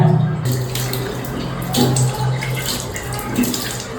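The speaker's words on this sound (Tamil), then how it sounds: "லூக் வார்ம் வாட்டரில் வாஷ் பண்ணிடுங்க" Lukewarm water splashes and runs during a face and lip wash, short close splashes and trickling over a steady background hum, no talking.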